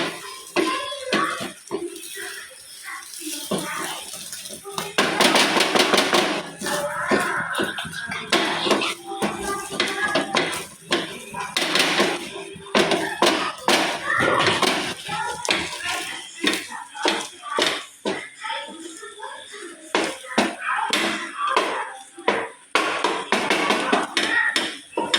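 A utensil scrapes, taps and clatters against a pan while cooked food is scrambled and stirred, giving a steady run of close, irregular metallic scraping and knocking, with occasional soft speech in the background.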